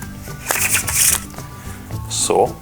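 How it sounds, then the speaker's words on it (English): Riffle shuffle of a stripper deck of playing cards, a rapid fluttering burst of cards interleaving, mixed with brief talking and handling noises, close and fairly loud. "make sure you have them the correct way when you're doing the riffle shuffle"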